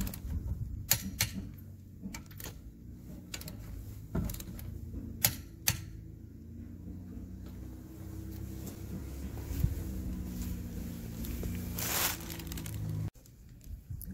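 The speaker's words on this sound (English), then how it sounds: "You notice that there's a louder click." A torque wrench tightens wheel lug nuts to 76 foot-pounds on a raised tire, giving a series of sharp, separate clicks at uneven intervals over a low background hum, with one louder burst near the end.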